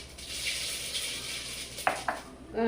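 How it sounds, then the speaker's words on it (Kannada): Mustard seeds tempering in hot oil in a pan: a steady close sizzle with a few brief sharp pops and a clink of utensil near the end. "ಈಗ ಇದು ಸ ಉದುಕಕ್ಕೆ ಒಗ್ಗರಣೆ ಹಾಕ್ತಾಯಿದ್ದೀನಿ ಎಣ್ಣೆ ಕಾದಿದೆ ಅರ್ಧ ಸ್ಪೂನ್"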